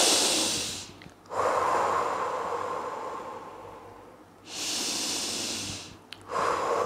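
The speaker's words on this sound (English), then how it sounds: "Take a couple of breaths." Slow, deep breaths drawn in and let out, two long airy inhale-exhale cycles heard close up in a quiet room, with no talking.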